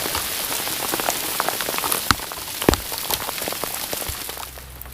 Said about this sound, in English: I'm glad I got the HD poncho on, because that hail's kind of stinging me at times.